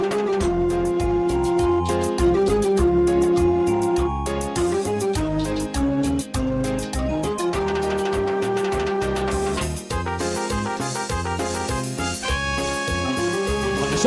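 Live band of a Peruvian group playing a song onstage, full steady mix of bass, percussion and melodic instruments running loud and unbroken throughout, with no voice on top.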